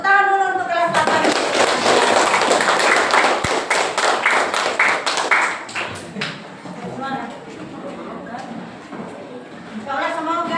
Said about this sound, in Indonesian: Tepuk tangan dulu untuk kelas 8.